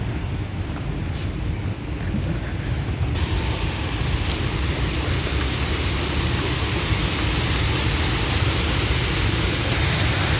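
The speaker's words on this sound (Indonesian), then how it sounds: "Anginnya kenceng banget ya di sini." Strong wind roars steadily through an old botanical garden in Bogor, a dense broadband rush that fills the whole stretch with no let-up and no voices.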